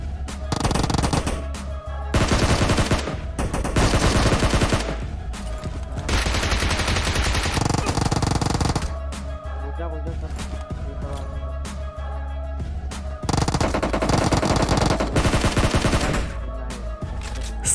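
PUBG Mobile game gunfire comes in loud bursts of rapid automatic shots separated by short pauses, close and dominant throughout with no talking.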